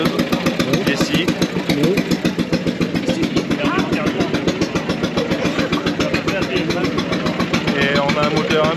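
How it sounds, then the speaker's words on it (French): Early-1930s Bernard W2 farm engine, the kind once used to drive mills, threshers and saws, runs at a fairground with a steady rapid chugging beat, close and loud while someone talks over it. "Un moteur Bernard W2 début des années 30, qui servait dans les fermes des exploitations agricoles du pays"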